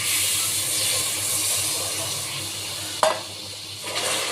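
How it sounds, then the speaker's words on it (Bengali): Room-temperature milk poured a little at a time into caramelized sugar in a pan for misti doi, with a steady hiss and sizzle under stirring, then a brief clink and a softer lull. "এবার নর্মাল টেম্পারেচারে যে দুধটা আছে সেটা এবার আমি অল্প অল্প করে দিয়ে দেবো, আর নাড়া দিতে লাগবো।"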